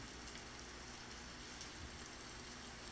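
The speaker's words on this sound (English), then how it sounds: "The rain noise makes it even more." Steady rain falling outside a cozy library room during a storm, a dense, even hiss of drops that stays constant and fairly soft with no voices.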